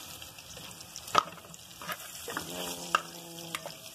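Okra frying with bacon in a pan of oil, with sizzling and stirring clatter and a few sharp utensil knocks, plus a brief spoken word.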